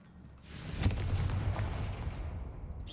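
A Confringo fire spell in Hogwarts Legacy bursts with a muffled explosive boom, a sharp hit followed by a rumbling roar that slowly fades.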